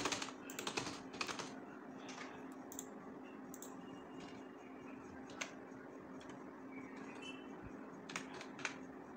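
Steady, close computer keyboard typing with irregular clusters of key taps running for several seconds over a constant low electrical hum.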